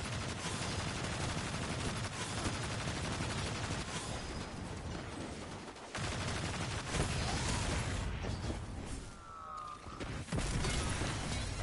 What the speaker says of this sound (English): I got two champions shooting at me. It's auto rifle.